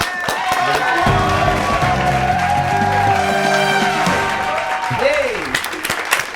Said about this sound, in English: Oh, we're clapping.